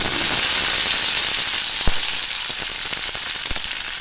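Onion, green chillies and curry leaves hit hot oil with mustard seeds, giving a loud, dense, continuous sizzle with a few sharp pops and light stirring clicks, close up and without voices.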